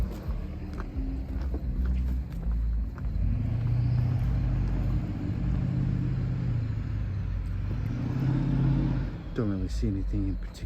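Low rumbling road traffic swells and fades as cars pass by near train tracks in San Antonio, Texas, with a person speaking quietly over it near the end.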